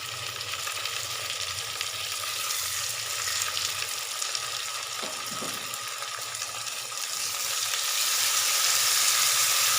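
Chopped tomatoes, two of them, frying in a cooked spice paste for a black chickpea curry, giving a steady close sizzle with faint stirring scrapes that grows louder toward the end.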